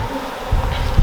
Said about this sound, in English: we do want these bees to move away